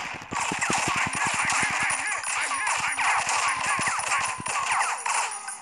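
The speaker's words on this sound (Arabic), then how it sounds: "بص في حد بيضرب عليا" Rapid gunfire from enemies shooting at the player in GTA 5 rattles in a dense, fast burst through the first half, then thins to scattered shots over a steady bed of game noise; no one talks.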